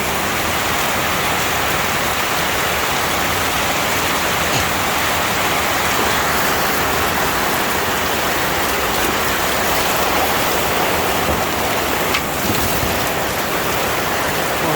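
Steady, heavy night rain in Pampanga, Philippines, hisses without a break, an even wash of falling water with no voices.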